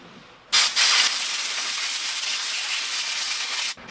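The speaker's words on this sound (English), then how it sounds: "some compressed air." Compressed air blasts into a rusty motorcycle fuel tank while a gasket is being removed, a loud steady hiss beginning with two sharp bursts and running for about three seconds before stopping abruptly.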